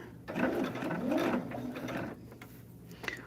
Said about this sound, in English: We're sewing down that line.